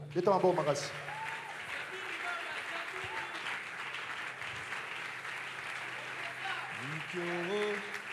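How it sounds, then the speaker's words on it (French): A church congregation applauds steadily at a Christian spirituality gathering, a dense wash of clapping that runs the whole time, with a voice and sung or chanted phrases rising over it at the start and end. "Acclamez très fort"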